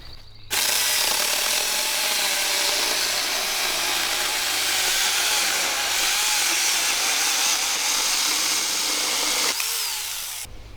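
A Huing mini chainsaw cuts through 4x4 lumber, running at a loud steady whine with a grinding, rattling chain bite for about nine seconds before the motor winds down.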